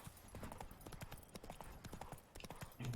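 Horse hooves clip-clop steadily in The Witcher 3: Blood and Wine, a quick rhythmic run of dull thuds at moderate level, with occasional game sounds mixed in.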